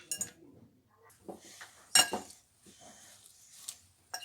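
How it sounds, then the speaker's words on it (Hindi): Spoon clinking against a bowl while mixing stuffing of coriander, onion, chicken and dry spices for stuffed bell pepper rings, a few scattered light taps and scrapes, close and fairly quiet, with brief voice sounds in between. "अब इनको अच्छी तरह हम मिक्स कर लेंगे।"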